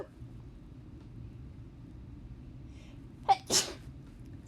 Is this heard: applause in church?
no